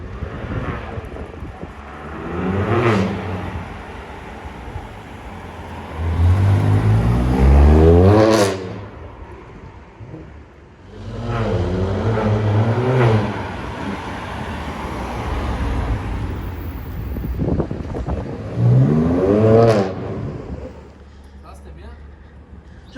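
A BMW M2 CS fitted with a Milltek exhaust revs in a few loud, rising and falling bursts with pauses between them, heard up close with wind buffeting the microphone and someone speaking French between the revs.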